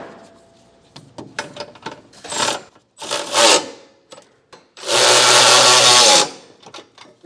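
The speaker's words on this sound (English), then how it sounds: "I can come back and tighten them the rest of the way down with a 19mm socket." A 19mm socket on a power tool tightens trailer hitch bolts on a 2025 Subaru, heard as loud, close mechanical bursts of whirring and ratcheting. Bursts of varying length are separated by short pauses, ending in one long sustained run.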